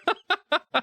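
A human voice imitates a seagull, giving four short, evenly spaced squawking calls, clear and close.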